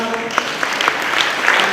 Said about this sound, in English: We clap for them as they come.